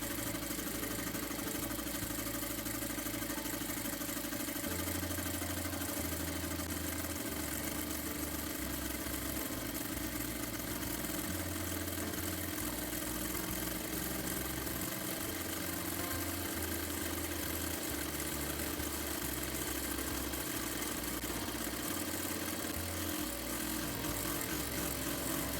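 An industrial sewing machine runs steadily for the whole stretch, a continuous motor hum with a low rhythmic stitching pulse that rises and falls as the foot pedal eases it on and off.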